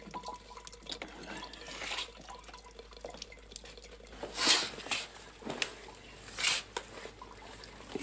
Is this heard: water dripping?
yes